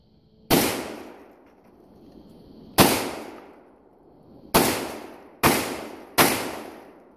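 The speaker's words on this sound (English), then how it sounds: "So again, 5 rounds out of the Saiga. I was using real low birdshot" Five blasts from a Saiga 12 shotgun loaded with light birdshot, loud and close, two spaced shots followed by three in quicker succession, each with a decaying echo.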